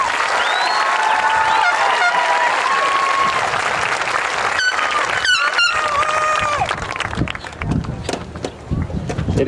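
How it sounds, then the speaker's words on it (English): Dense applause rises from a high school graduation audience for the Class of 2026 honor students, mixed with shrill whistles and whoops and thinning toward the end. "One more round of applause for these honor students."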